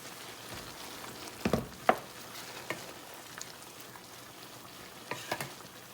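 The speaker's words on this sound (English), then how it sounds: "I'm gonna mix and see if I need to add more." Rice being stirred with tahini in a frying pan, a soft continuous sizzle broken by a few sharp scraping clatters of the utensil against the pan, close by and moderately quiet with no talking.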